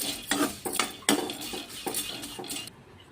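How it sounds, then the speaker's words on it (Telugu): Dried prawns frying in a hot kadai, with a run of metallic scraping and clinking strokes from stirring against the pan, fairly close and moderately loud, ending in quiet. "కడాయి వేడెక్కాక రొయ్యలు కొంచెం వేపుకుందాము"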